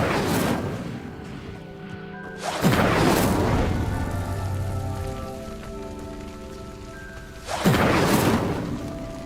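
Incendio fire spell igniting a pyre in Hogwarts Legacy, two loud whooshing bursts of flame, each followed by a sustained crackling roar and ringing magical tones that slowly fade, with no talk.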